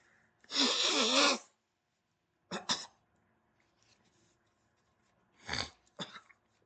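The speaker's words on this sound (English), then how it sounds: "Hold on, I need to blow my nose." A loud, honking nose blow, followed by a couple of shorter snorting blows and sniffs, close to the microphone with quiet gaps between.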